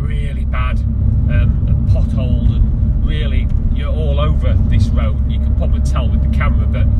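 Inside a 2012 Mini Cooper S R56 on a badly potholed road, a loud, constant low engine and road rumble runs throughout, while someone talks over it the whole time.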